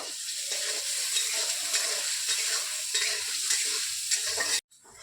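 Chickpeas, garlic and green chillies fry in a wok, a steady close sizzle with scraping stirs throughout, cutting off abruptly near the end.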